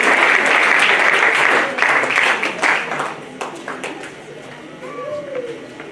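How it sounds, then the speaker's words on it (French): Audience applauding children after their performance at a church event, loud clapping for about two seconds that breaks into scattered claps and fades, with a voice and faint cheering near the end. "Applaudissez pour les enfants, encourageons-les."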